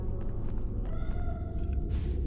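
A cat meows once in the video game Harry Potter and the Philosopher's Stone, a drawn-out tonal cry over a low rumbling background, followed by a brief higher squeak.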